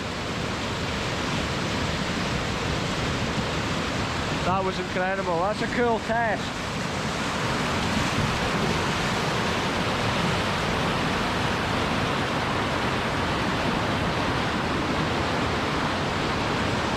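River water rushing loudly and steadily past the bank at the Den of Airlie in Scotland, a deep, fast torrent giving a constant broadband roar, with people talking briefly over it midway through.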